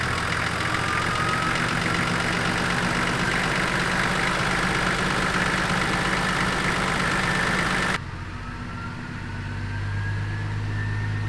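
A Nissan TD42 turbo diesel idles steadily and loudly, a rough, gravelly drone with a faint rising whine. Near the end the idle drops to a lower, quieter rumble as the revs are brought back down.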